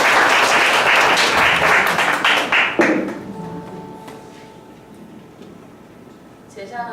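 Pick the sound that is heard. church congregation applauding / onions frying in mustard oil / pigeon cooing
church congregation applauding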